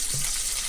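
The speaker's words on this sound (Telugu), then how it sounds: "ఎల్లుల్లిపాయ కొంచెం వేగాలండి. సరే, చిటపటలాడుతుంది కదా." Sliced garlic frying in hot oil for Telugu ivy gourd chutney gives a brief, close spluttering sizzle over a steady frying hiss, with no one talking.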